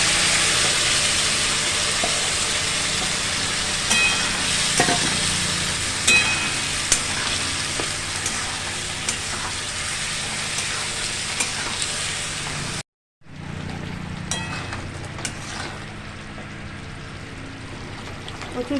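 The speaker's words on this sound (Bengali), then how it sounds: "এরপর চিকেনটা দিয়ে দেবো" Chicken pieces added to a pan of fried onions sizzle loudly and steadily, with stirring scrapes over the hiss; a brief silent gap near the end breaks the frying before it resumes.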